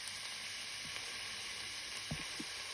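Vegetables and eggs stir-frying in a pan with dry parsley, seasoning and spices, a soft steady sizzle with a few faint stirring clicks, quiet and alone.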